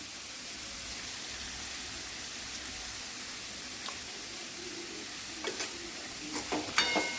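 Safflower leaf (kardi) bhaji with red chilli powder being stirred in a pan, a soft steady sizzle with a few sharp scraping clicks of the spoon near the end.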